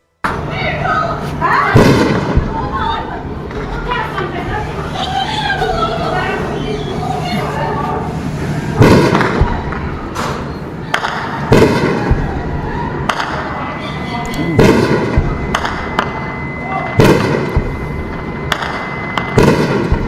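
Explosions over Jammu as air defence destroys Pakistani drones: a series of sharp booming bangs and thuds at irregular intervals, some in quick pairs, heard at a distance under a continuous talking voice.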